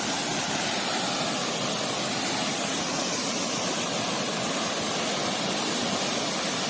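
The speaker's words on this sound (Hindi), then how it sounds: "गिरता हुआ झरना।" A small waterfall at Chunari Fall pours in a steady, loud, broadband rush of falling water, continuous and unbroken with no voices over it.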